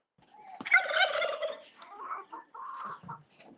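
A turkey gobbles in a rapid, rattling burst at close range, followed by a few shorter calls, with no one talking over it.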